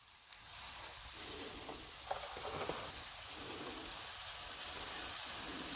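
Flour-coated cube steak sizzles and crackles in a frying pan, a steady soft hiss with a few small pops, fairly quiet and close, with no talking.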